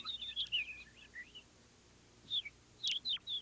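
Birds singing in a forest: a few clear high chirps and short warbled phrases come in bursts over a quiet background, with a pause in the middle.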